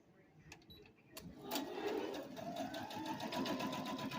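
A Brother CP100X quilting and sewing machine starts with a few clicks, then runs in a fast, even mechanical whirr of needle strokes, close and moderately loud.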